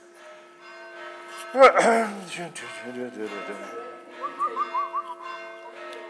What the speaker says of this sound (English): You've started those bells again.